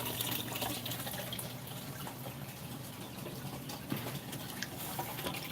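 Water trickling and splashing steadily through the return of a newly set-up home aquarium as its pump is first switched on, a continuous faint flow with small drips, no talking.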